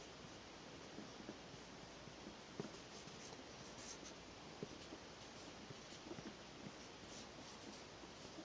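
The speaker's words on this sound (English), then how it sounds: "let's see how the Sharpie chisel tip works on this laser paper by HP presentation glossy surface" A Sharpie chisel-tip marker scratches and squeaks across HP glossy presentation laser paper, a steady close-up writing noise with small strokes and taps, alone in a quiet room.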